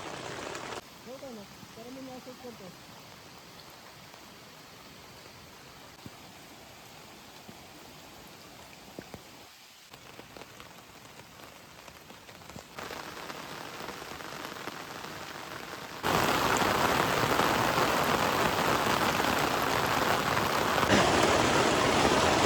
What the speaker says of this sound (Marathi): बाहेर पाऊस एवढा पडतोय ना, जोरदार पाऊस पडतोय एकदम